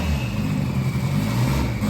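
A Renault 5 race car engine warms up on pump fuel, holding a steady, fast idle with a continuous low rumble, close and fairly loud, with no talking.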